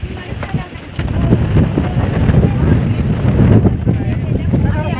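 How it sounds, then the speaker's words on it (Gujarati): Strong wind buffets the microphone on Girnar mountain near Junagadh, a continuous roaring rush that swells and stays loud throughout, with people talking underneath. "અત્યારે પવન છે."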